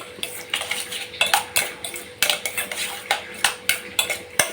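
A spoon repeatedly scrapes and clinks against a pot while chili and coriander powder are mixed in, sharp metallic taps coming in an uneven rhythm close up.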